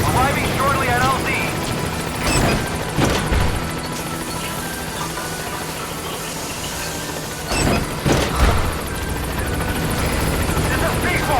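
Pequod, the helicopter in Metal Gear Solid V, arrives at the landing zone with steady rotor thrum and engine whine, joined by high squeals and sharp bursts, while a voice talks over it.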